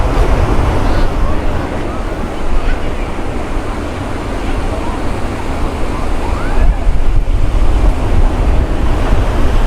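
Surf and strong wind at Sinquerim beach in Goa make a loud, continuous roar, with heavy gusts buffeting the microphone and waves washing in without a break.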